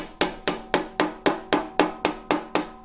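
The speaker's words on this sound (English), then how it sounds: "beat it around with a hammer" A stainless steel TIG rod clamped in a vise is struck with a hammer ten times in a steady, even rhythm, each blow a sharp metallic clang with a short ring, close and loud.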